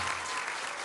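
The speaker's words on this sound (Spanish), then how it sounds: "Les pido un aplauso de punta a punta, fuerte" An audience applauding at a political event in Baja California Sur, a dense steady wash of clapping hands filling the moment, fairly loud and continuous.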